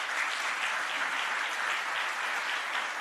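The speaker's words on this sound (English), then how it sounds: "Give yourselves a round of applause just for that." Symposium audience applauding, a dense, continuous round of clapping from many hands that fills the room evenly throughout, fairly loud, with no speech over it.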